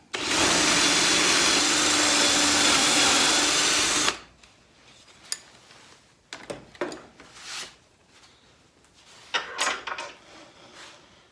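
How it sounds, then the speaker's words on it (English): A power drill whines loudly and steadily for about four seconds while drilling out a hole in a dust collector cyclone lid, then stops, followed by scattered clatter and handling noises. "so I'll just drill that hole out now."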